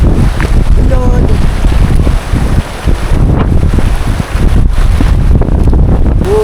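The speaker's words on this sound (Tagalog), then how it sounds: "Tapos yung hangin malakas pa rin." Strong wind buffets the microphone at a campsite in changeable drizzly weather, a steady roaring rush with gusts that swell and dip, and a faint voice passing briefly underneath.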